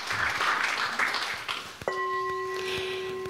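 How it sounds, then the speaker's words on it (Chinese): Applause at the closing ceremony of a Buddhist temple gathering fills a large hall: a dense, steady crowd clapping that carries on under a bright ringing bell or chime struck partway through, with the clapping continuing beneath its sustained tone. "让我们再以热烈的掌声恭喜他们"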